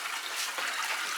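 Clean spring water pours and splashes steadily from a village source in Ingushetia, a continuous close hiss of flowing water with no talk.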